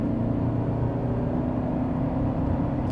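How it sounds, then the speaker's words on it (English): A 2025 Toyota Camry LE accelerates at half throttle in Eco mode, heard from inside as a steady, moderately loud low engine and road hum that stays even throughout. "About half throttle in Eco mode."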